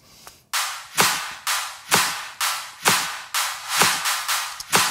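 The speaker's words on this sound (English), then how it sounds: "there is live claps" Live hand claps sit in a studio music mix, landing as sharp, bright hits about twice per second in a steady rhythm, each with a short roomy tail, alone and fairly loud.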